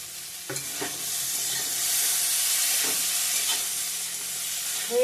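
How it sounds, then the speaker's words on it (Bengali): Onions frying in oil sizzle steadily and close by, broken by a few sharp clacks of a spoon stirring against the pan. "পেঁয়াজ দিয়ে ভেজে নেবো"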